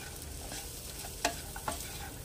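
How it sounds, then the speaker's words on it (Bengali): Vegetables and spices tossed with turmeric in a hot pan for Mumbai-style tawa pulao, a steady close sizzle with two sharp stirring scrapes of the spatula and no talking. "যেহেতু আমি চালটা নর্মাল করেছি সেহেতু এটা আমি হলুদ দিয়ে ভাজছি।"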